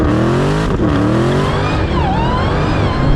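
A Dodge Challenger Demon and a Porsche 911 Turbo S launching off the line in a drag race, loud close engines roaring and climbing in pitch, with a brief shift-like dip before revving on.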